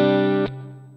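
Guitar through a Sonicake Matribox 2 multi-effects unit, using Tweed Deluxe amp modelling and stereo modulation, gives one bright sustained chord that is cut off and leaves a fading tail, close and alone.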